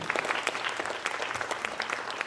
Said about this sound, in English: give another round of applause for Christina